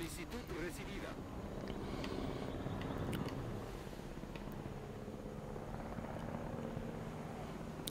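A helicopter rotor thrums steadily as it arrives in the video game Jurassic World Evolution, a low continuous whirring beneath someone speaking, with faint clicks and game effects scattered throughout.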